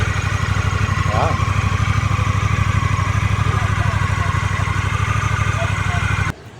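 Honda Rebel 1100 motorcycle idling in a parking lot, a loud, steady low rumble with even pulses throughout that cuts off abruptly near the end.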